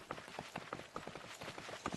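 Horse hooves clip-clop around the stables in the video game Disney Dreamlight Valley, a quick, even run of soft hoof taps heard alone.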